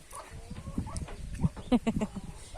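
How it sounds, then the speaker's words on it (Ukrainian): A small flock of ducks gives short, scattered quacks and clucks nearby, with soft shuffling and rustling beneath them. "Кличу корей біжать качки."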